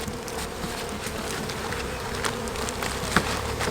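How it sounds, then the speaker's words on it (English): Bees buzz around an open beehive while the lid is handled, making a dense, steady hum close by with a few louder passes near the ear and no speech. "Make sure there's no bees in the way."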